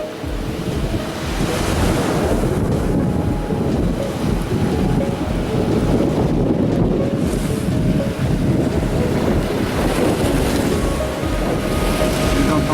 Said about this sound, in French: Voici la mer, mes chers abonnés.